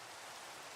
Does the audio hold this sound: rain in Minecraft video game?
yes